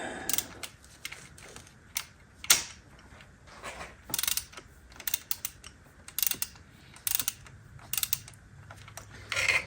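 A hand ratchet tightens bolts during a yearly service on a Mercedes S600, with bursts of rapid clicking pawl strokes, close and fairly quiet, separated by short pauses.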